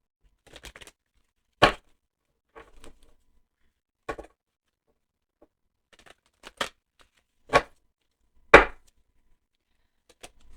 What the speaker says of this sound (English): I think I need to do 2 more shuffles, right?